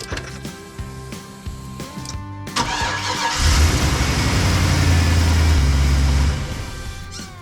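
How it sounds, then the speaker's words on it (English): A 1991 Chevrolet Suburban squarebody engine with an E85 setup cranks with a rhythmic starter whir for a couple of seconds, then catches and runs at a loud, steady idle close by. "let's make sure it actually cranks"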